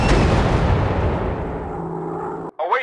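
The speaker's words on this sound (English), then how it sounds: "Bomb away!" Bombs explode in the Warplanes: WW2 Dogfight game as a loud, rumbling boom that rolls away and fades, followed by a short burst of radio-style voice chatter.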